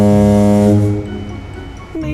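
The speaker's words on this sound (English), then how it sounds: "They need to put a foghorn on crash units." A loud, deep foghorn blast with rich low tones sounds for about a second, then fades into quieter background noise.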